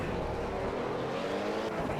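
Pagani race car in Project CARS driving a track at speed, a steady loud engine drone held throughout with no talking.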